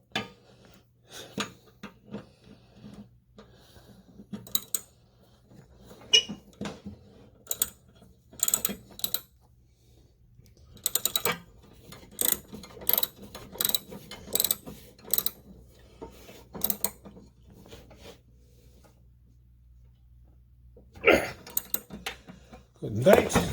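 Ratcheting clicks and metallic creaks from a wrench tightening the blade bolt on a 42-inch Poulan/Husqvarna/Craftsman lawnmower, coming in irregular bursts of quick ticks with pauses between them, close up, with faint talk underneath.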